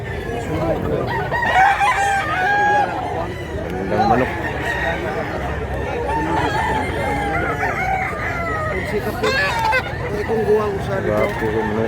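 Roosters crow repeatedly amid clucking hens at a chicken market in Mantalungon, Cebu, with a busy crowd of voices chattering throughout.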